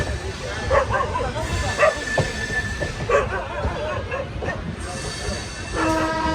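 A Bhavnagar to Botad train rumbles steadily along the tracks while a dog barks a few times nearby and people talk over the noise.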